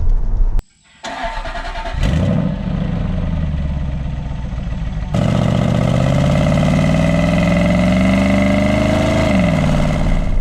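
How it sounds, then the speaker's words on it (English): Jaguar XK X150 4.2-liter V8 in a 2008 coupe, catching after a starter crank, then idling and climbing through a loud, smooth rev that swells and falls back, heard close with no talk. "the induction bark up front or the fine noises that come out of the rear of the car"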